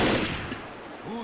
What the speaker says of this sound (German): Guter Schuss.